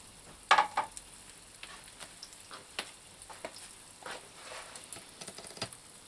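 A chicken omelette fries in a pan for keto cooking, giving a soft steady sizzle with faint crackles and a few sharper pops and scrapes close by, and no talking.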